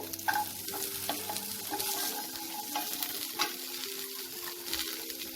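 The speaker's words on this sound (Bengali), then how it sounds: "এবার আমি কেটে রাখা গাজর দিয়ে দেবো" Chopped carrots tossed into a hot frying pan and stirred, a steady sizzle with scraping spoon strokes and light clatter, close and without talk.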